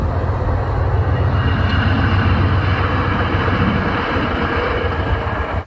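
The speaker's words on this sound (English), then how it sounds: "I'll wait for the train." A loud, steady low rumble of a train rolling past, continuous heavy engine and wheel noise filling the whole stretch without pause.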